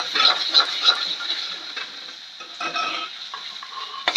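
Masala being sautéed for a rustic mutton curry, with a spoon scraping and stirring through it in a pan over a soft sizzle, in uneven close bursts.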